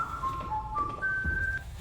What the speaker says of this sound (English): He's whistling the Star Trek theme